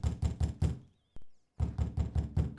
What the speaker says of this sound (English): he's really like banging on my door there